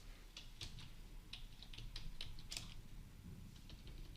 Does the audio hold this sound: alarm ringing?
no